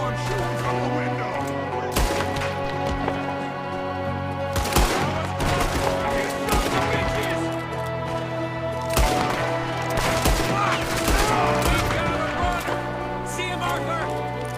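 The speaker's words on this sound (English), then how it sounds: "There's another one shooting from the window." Gunfire in Red Dead Redemption 2 as a gunman shoots from a window, with bursts of shots and impacts over a dense game soundtrack, and voices speaking throughout.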